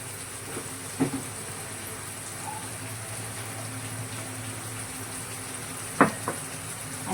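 Curry leaves and garlic frying in a pan, a steady low hiss of oil with a couple of sharp clanks of a utensil, close and moderately quiet.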